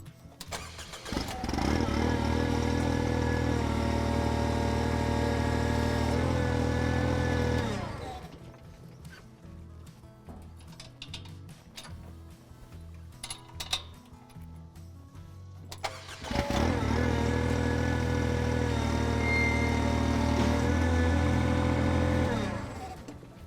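A Ventrac tractor engine runs loud and steady, then shuts off for about eight seconds, leaving quiet clanks and small knocks, before it starts again and keeps running evenly to the end.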